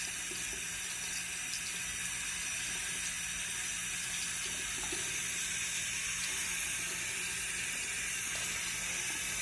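Lukewarm tap water runs from a faucet while freshly hatched baby bearded dragons are rinsed, a steady close hiss and splash that continues evenly throughout without talk.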